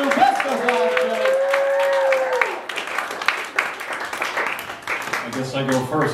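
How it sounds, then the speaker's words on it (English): Applause and clapping ring out from a comedy club audience at a roast battle, loud and sustained at first, then thinning out over a couple of seconds as a speaker's voice carries on above it. "A round of applause for these two best of 5 jokes."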